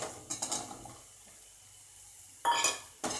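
Sliced mushrooms tumble into a pan of frying onions and get stirred with a utensil, giving clattering scrapes and knocks in short bursts separated by a quiet low sizzle.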